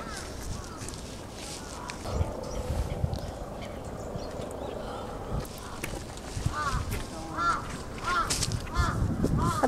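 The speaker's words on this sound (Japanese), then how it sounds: "鳥もたくさんですね" Geese and ducks honk and call intermittently around the moat at Osaka Castle Park, a few nearby squawks standing out toward the end over steady outdoor ambience, with people talking throughout.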